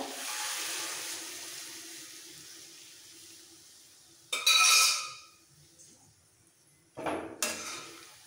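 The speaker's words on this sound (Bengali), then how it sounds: "সব কিছু দিয়ে কষানোর পর দিয়ে দিচ্ছি চিকেনের স্টকটা, সবটা দিয়ে দেবো।" Chicken stock is poured into a pot of chicken polao biriyani, a liquid rush against a soft kitchen hiss, with two louder splashing clatters near the end.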